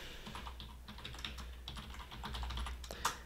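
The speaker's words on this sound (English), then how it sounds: "I want to type in destroyed building." Keys clatter on a computer keyboard in a quick, uneven burst of close, light clicks, with brief pauses between short runs of strokes and a final sharper tap.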